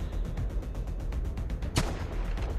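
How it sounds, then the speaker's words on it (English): Sniper gunfire in a strategy video game, set in 1971: a steady rhythm of muffled distant shots followed by one sharp, louder crack near the end, with no talk. "We're getting sniped at."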